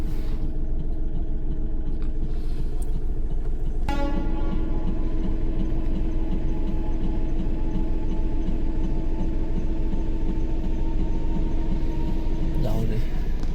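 A train on the Konkan Railway rolls past a railway crossing with a continuous heavy rumble and rhythmic clatter of wheels, joined midway by a long sustained horn blast, loud and close throughout.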